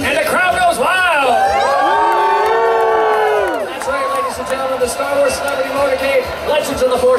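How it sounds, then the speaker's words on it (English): A loud crowd cheers and whoops at a Star Wars celebrity motorcade, with high shouted voices rising and falling over a dense roar of excited people close by. "And the crowd goes wild!"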